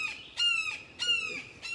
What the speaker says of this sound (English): very hungry, little barred owl